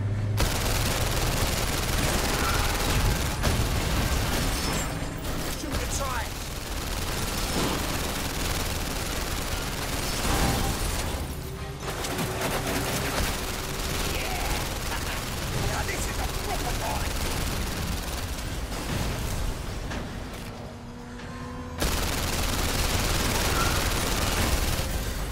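Dense gunfire rattles almost nonstop in the VR game London Heist, bursts of shots layered over a loud, busy game mix, with someone talking and shouting throughout.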